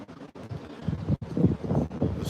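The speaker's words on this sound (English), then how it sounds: "it's a little windy" Gusty wind buffets the microphone in uneven bursts, low rumbling thumps with brief drops in between, close and fairly loud.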